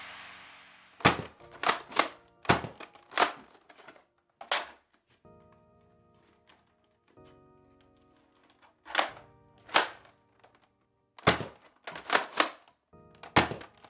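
A Nerf Mega shotgun blaster firing darts: about a dozen sharp, close pops and thunks come in quick clusters, separated by short quiet pauses.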